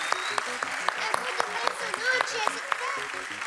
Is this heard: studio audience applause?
yes